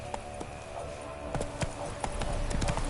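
Hoofbeats of Roach, the horse in The Witcher 3, clop in a steady galloping rhythm at moderate level over a continuous ambient game backdrop, with faint voice-like sounds mixed in.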